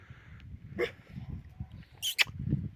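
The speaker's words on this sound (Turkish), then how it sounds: "Aha köpekler havlıyor." A Kangal dog barks a few times in short, sharp bursts, fairly close, at a village entrance, with some small yips and scuffling in between.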